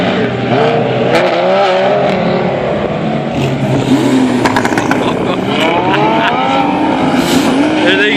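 Race cars speeding down the Jebel Hafeet mountain road, engines whining and shifting pitch as they accelerate and pass, loud and continuous with rising and falling revs over a busy outdoor background.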